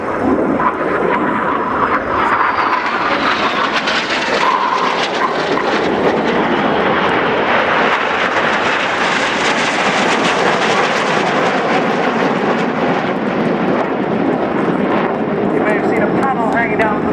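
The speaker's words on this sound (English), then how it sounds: "If you look to your right, you'll see a single jet" A display jet roars loudly overhead at the Royal International Air Tattoo 2013, the engine noise swelling and shifting as it passes in formation, with a voice talking underneath.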